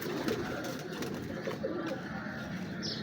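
Breeder pigeons coo softly in a loft, their low calls rising and falling over a steady, noisy background.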